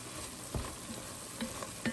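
Garlic goes into onions and meat frying in a pot for Zuppa Toscana, with a constant close sizzle and a few sharp clicks and knocks of stirring against the pan, no voices.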